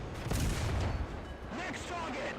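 A tank cannon shot landing a hit in the War Thunder video game, a deep booming blast with rumbling impact that fades into mechanical clatter, heard briefly at moderate volume.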